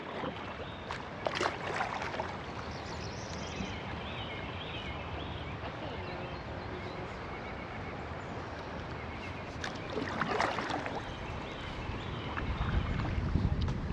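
Wind blowing steadily over a kayak on Twin Creek in Ohio, a constant broadband rush with gusts and microphone buffeting, plus faint water and paddle sounds, with no talk.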